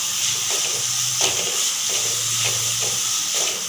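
Chopped tomatoes sauté with onion and ginger-garlic paste in a pan for a mushroom kulambu, giving a steady close sizzle broken by periodic stirring scrapes.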